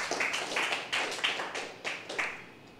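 A small audience claps in a church-style gathering, a thin, scattered patter of hands with uneven bursts rather than a full ovation, heard alone without voices.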